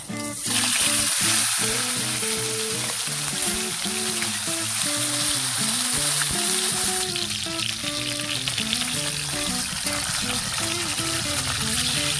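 Flour-coated tilapia fries in hot oil with a loud, continuous sizzle and crackle that fills the whole stretch, while a voice murmurs faintly beneath it.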